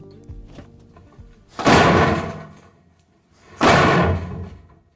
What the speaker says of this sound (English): This is just giving you a metallic, ringy metal ramp sound.